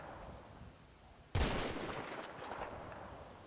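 Video game gunfire: a sudden loud burst of shots cracks out after a quiet stretch, with a trailing rattle of further fire fading behind it.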